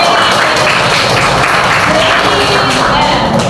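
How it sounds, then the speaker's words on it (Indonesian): A classroom of students claps for three classmates in an Indonesian Islamic school lesson, a dense, steady patter of many hands running throughout with voices mixed in. "Beri tepuk tangan untuk ketiganya."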